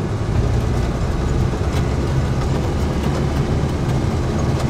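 Toyota Land Cruiser driving in lower gears on an ice road, a loud, constant low engine drone with road rumble, close and unbroken throughout.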